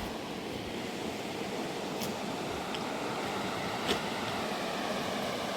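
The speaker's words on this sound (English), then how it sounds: "It's crazy that that much water is like flowing out of here" Water streams steadily from the Blue Eye spring as an even, broad rushing wash, constant and fairly close, with a few faint clicks and no talking.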